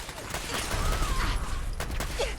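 Incoming gunfire in Fallout 4 during a fight with raiders, a short, steady rattle of shots and mechanical clatter, close and fairly loud.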